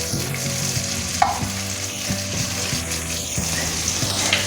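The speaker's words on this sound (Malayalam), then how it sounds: "ചതച്ചത് ഇതിൻ്റെ കൂടെ യോജിപ്പിച്ച് ഒന്ന് ചെറുതായിട്ട് മൂപ്പിച്ചെടുക്കണം" Crushed small onions lightly fried in a pan of oil for a lentil rasam, a steady loud sizzle with occasional stirring scrapes and no talk.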